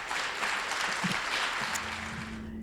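Audience applause at the Berea City School District Distinguished Alumni Hall of Fame ceremony as an inductee is honored; steady, dense clapping fills the room for the whole stretch, with a faint low hum near the end.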